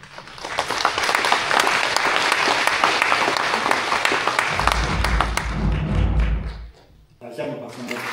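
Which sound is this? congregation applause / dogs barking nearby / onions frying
congregation applause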